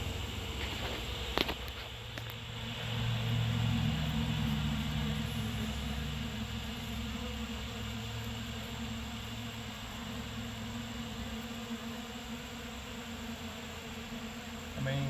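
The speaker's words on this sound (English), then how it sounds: "Now bees got my attention." A swarm of bees from a poisoned hive inside a wall hums steadily throughout, a close, sustained buzzing drone with a couple of brief clicks near the start.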